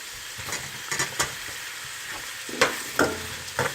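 Onion and leek frying in olive oil and butter, a steady close sizzle broken by several sharp scrapes and clatters of stirring, with no talk.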